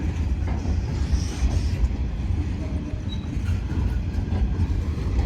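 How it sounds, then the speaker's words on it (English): A train rolls past at Broadmeadow station in Newcastle, a loud steady rumble of wheels and carriages close by, holding at a constant level throughout. "How long is this train?"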